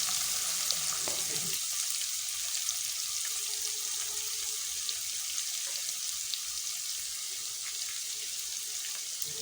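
Chopped onions frying in oil over medium-low heat for a Bangladeshi egg curry, giving a steady, soft sizzle that continues alone throughout.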